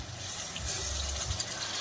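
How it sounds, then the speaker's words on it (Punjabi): Water poured into a pan of chicken korma curry, a steady low gushing splash lasting throughout, close and fairly quiet with no talk. "ਥੋੜਾ ਜਿਹਾ ਪਾਣੀ ਪਾਵਾਂਗੇ"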